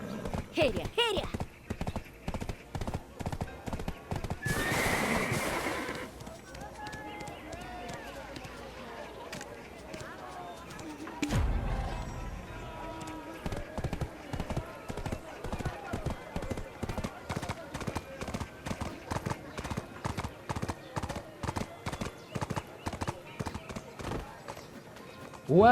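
Steady rhythmic clip-clop of horse hooves in the video game Black Desert Online runs throughout, with a brief whinny and bursts of noise, while a voice talks over parts of it.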